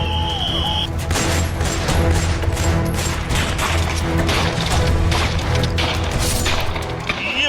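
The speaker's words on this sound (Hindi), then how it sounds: "ऑपरेशन सिर्फ गोलियों की तड़तड़ाहट नहीं थी" Sustained gunfire during an army and police encounter with militants in Kulgam, loud cracking shots and bursts, some sharp and splintering, firing almost continuously without speech.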